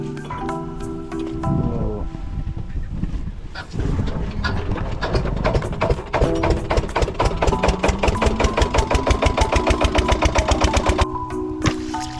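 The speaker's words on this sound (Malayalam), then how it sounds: "ഈ ഒരു ഡീസൽ മോട്ടോർ ഉപയോഗിച്ചിട്ടാണ് നമ്മൾ ഈ പറമ്പെല്ലാം നനയ്ക്കുന്നത്" A diesel water pump motor chugs close and loud on a cardamom plantation, its thumping pulses quickening into a fast, steady putter that keeps running.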